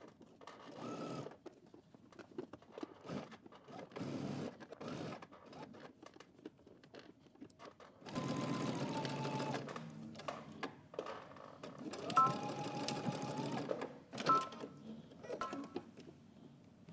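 A sewing machine stitches the undercollar of a coat in two long loud runs, with quieter bursts of handling and brief machine starts between them.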